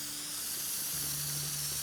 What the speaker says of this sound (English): Is the spray can doing much?